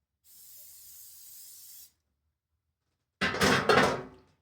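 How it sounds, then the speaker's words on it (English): Cooking spray hisses onto a baking pan in one steady burst of about a second and a half, followed after a pause by a louder, rougher handling clatter, close and otherwise quiet. "let me get my spray. Spray your pan."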